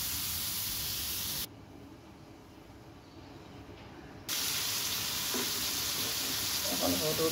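Soybean chunks fry in a pan with a soft, steady hissing sizzle that drops noticeably quieter for a few seconds before returning.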